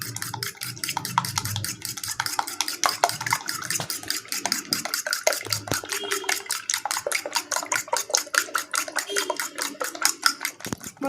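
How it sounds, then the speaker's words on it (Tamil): Eggs with salt and turmeric are beaten briskly in a bowl for a chicken omelette, a fast steady run of close whisking clicks and taps against the bowl. "முட்டையை நல்லா பீட் பண்ணியாச்சு."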